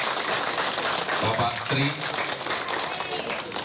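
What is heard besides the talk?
audience applause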